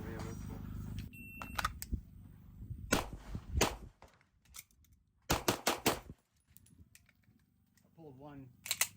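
Pistol shots during USPSA competitive shooting practice: a couple of sharp reports, a pause, then a tight burst of several more, loud and near, with a person talking at the start and end.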